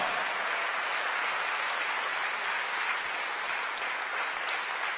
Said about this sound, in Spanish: Démosle palmas al Señor, hermano.